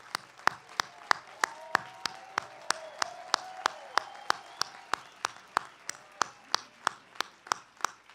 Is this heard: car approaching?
no